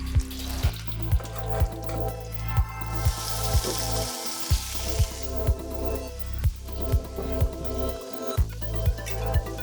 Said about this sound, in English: Nice good sear on both sides.